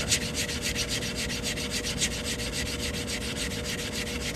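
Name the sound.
sanding an edge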